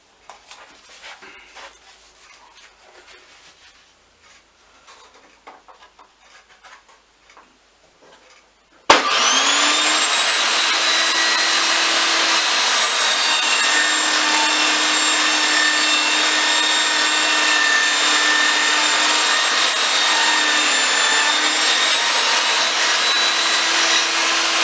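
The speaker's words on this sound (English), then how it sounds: "we'll just cut a angle all the way down" Pieces of wood for a small keepsake box are cut at an angle on a miter sled, with the power saw starting abruptly after a few quiet seconds of faint handling noise, then running as a loud, steady whine to the end.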